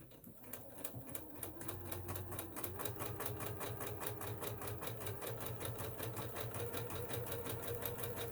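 A Janome MC 10000 sewing machine stitches steadily with a fast, even mechanical chatter and a low motor hum, running continuously and close up with no talking.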